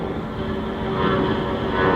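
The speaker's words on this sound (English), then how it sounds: "Get that airplane." An airplane passes overhead near a Los Angeles construction site, a loud, steady engine roar with a sustained droning hum that swells slightly toward the end, no talking.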